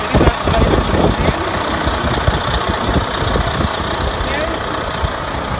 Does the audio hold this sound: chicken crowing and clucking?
no